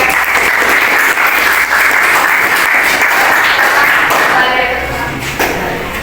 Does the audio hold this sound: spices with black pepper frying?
no